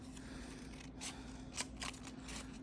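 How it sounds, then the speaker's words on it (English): Paper is cut with a pair of wonky scissors for junk journal collage, giving a few quiet, crisp snips spread over a couple of seconds above a low background hum. "These scissors are really wonky."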